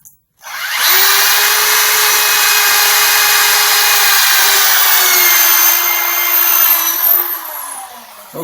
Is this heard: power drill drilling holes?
yes